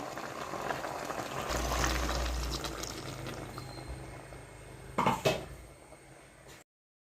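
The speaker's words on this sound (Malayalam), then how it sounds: "ഇതിൻ്റെ കൂടെ നമുക്ക് കുറച്ച് ചൂടുവെള്ളവും കൂടെ ചേർത്ത് കൊടുക്കാവേ" Hot water poured into a pot of coconut-ground chicken curry, a steady splashing pour over a few seconds that thins out, ending with a couple of louder clinks near the close.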